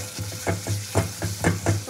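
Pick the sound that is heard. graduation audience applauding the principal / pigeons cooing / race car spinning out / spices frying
spices frying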